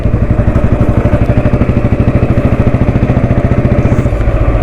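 Vintage Royal Enfield Electra motorcycle riding in fourth gear, its single-cylinder engine thumping in a fast, even beat, loud and close, with a faint mechanical clatter over the top.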